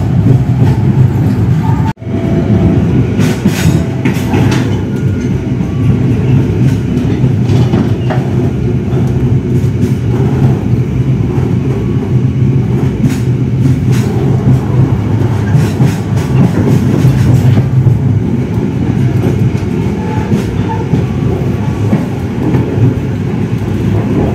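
The Senja Utama Jogja passenger train bound for Yogyakarta rolls steadily along the rails with a continuous loud rumble and rhythmic clickety-clack heard from inside the carriage, with no voices.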